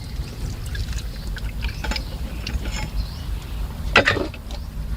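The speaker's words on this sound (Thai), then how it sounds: "เมื่อเราใส่เสร็จแล้วเราก็ลดน้ำครับ ลดน้ำพอชุ่มนะครับ" Water poured onto homemade compost in a garden pot until moist, a soft splashing trickle with a few brighter gushes, fairly faint against a low background rumble.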